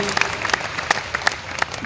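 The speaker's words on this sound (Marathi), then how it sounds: "तात्यांनी उत्सव केले जोरदार टाळ्या वाजवा" An audience at a devotional kirtan gathering breaks into applause: a dense wash of many hands clapping with sharper individual claps standing out, moderately loud and continuous.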